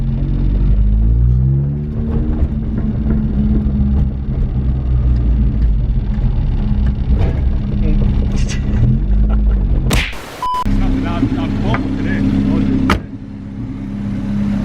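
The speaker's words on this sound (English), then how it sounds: "It's so loud and obnoxious and everything that I enjoy in a car." A loud, throaty VTEC-swapped Mk1 Ford Fiesta engine rumbles and revs close by, deep and rough, with sharp crackling pops breaking through near the end.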